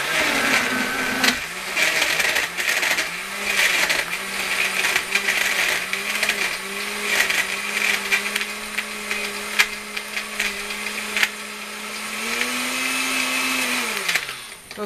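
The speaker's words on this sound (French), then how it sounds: "et puis blender." A blender whirring through a mango smoothie, running steadily at close range with a rising pitch toward the end before it cuts off, no talking.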